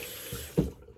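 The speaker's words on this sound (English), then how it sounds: "A little bit more rinse." A tap runs steadily into a sink for a post-shave rinse, with a faint gurgling splash and one brief louder slosh of water near the end.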